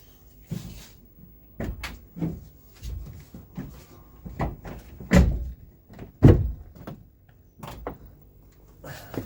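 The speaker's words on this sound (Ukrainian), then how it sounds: "Зараз я трошки дверку відкрию зсередини, бо вона не відчиняється добре." Chevrolet Lacetti car door opened from inside, a series of knocks, clunks and latch thuds at close range with short gaps between them and no talk.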